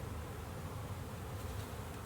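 Italian honey bees buzzing in a dense, steady swarm drone while a package is installed into a backyard hive, close and continuous with no voices.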